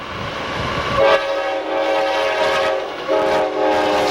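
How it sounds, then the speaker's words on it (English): Norfolk Southern's 21E westbound intermodal freight, heavy with UPS trailers and mail on the Pennsy line, rumbles past loudly while its horn sounds in two long blasts over the steady rail noise. "This is a premium service train on Norfolk Southern, the 21E, also a mail train, but heavy with UPS traffic"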